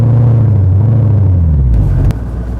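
An 800-horsepower rear-drive manual car's engine rumbles and revs loudly, a deep droning tone that sags in pitch before cutting off sharply with a click, leaving a lower idle rumble.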